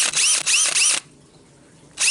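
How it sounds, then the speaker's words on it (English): A power drill with a larger bit bores through wood while a knife is being made: three loud, close whirring bursts, a second of near-silence, then the drill starts again. "Then after we have a hole, we take this bigger bit and then I'm gonna drill through there"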